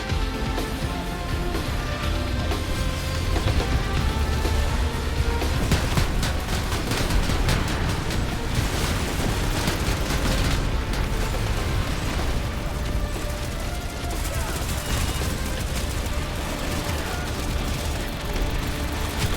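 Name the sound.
gunfire against a Harasser vehicle in video game PlanetSide 2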